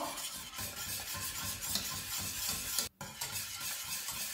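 A pot of corn flour porridge being stirred while it boils, close soft scraping and bubbling in a continuous rhythm with one brief gap near the end, no speech.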